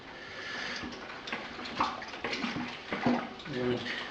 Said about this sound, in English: we'll start mixing up our extract with the hotter water there.